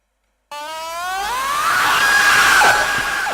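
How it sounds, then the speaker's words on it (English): A sustained, rising vocal scream in a song recording, starting abruptly after a short silence and holding a loud, strained, harmonically rich tone that climbs in pitch and settles. "There's the scream."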